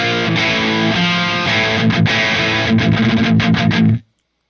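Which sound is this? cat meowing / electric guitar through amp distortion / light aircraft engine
electric guitar through amp distortion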